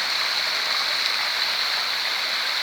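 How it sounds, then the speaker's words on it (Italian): Water splashes and pours in a modern fountain with a bathing nymph statue in Gemona, a dense, steady hiss of falling water close by with no talking. "Bello questo rumore dell'acqua, questo scroscio dell'acqua"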